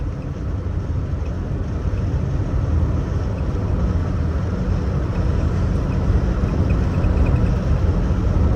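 A 1955 Buick Special Series 40 two-door pillarless hardtop on the road, its engine a loud, steady low rumble with constant road and wind noise, close and continuous.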